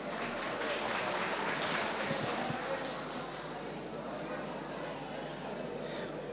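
Crowd applause at a ceremony honouring couples married fifty years, a steady dense clapping that stays moderately loud throughout, with some voices mixed in.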